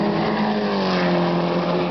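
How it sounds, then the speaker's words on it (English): A Ferrari F430 Scuderia V8 race car engine roars at high revs at Oschersleben circuit, a loud sustained tone that climbs slightly in pitch. "the sounds of the Ferrari V8"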